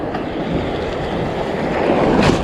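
Rough ocean waves surge and wash steadily at the beach, a continuous roaring wash with wind buffeting the microphone, building slightly louder toward the end.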